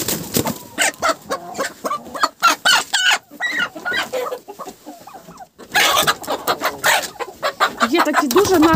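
Chickens in a rural yard cluck loudly and close by, with busy overlapping calls and occasional squawks while someone talks over them.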